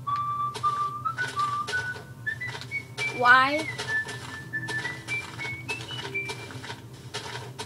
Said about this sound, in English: I'm just gonna whistle right now.